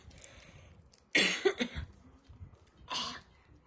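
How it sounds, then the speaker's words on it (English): Two bursts of harsh coughing, close and fairly loud, the first a longer fit, the second a short single cough, with quiet breathing between. "I'm coughing a lot of shit up right now."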